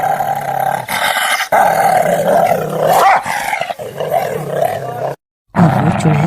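A dog growls and snarls close up in a dramatized spooky tale about a witch living in a tree, the rough rumbling repeated in bursts, briefly cut by a short silence before resuming.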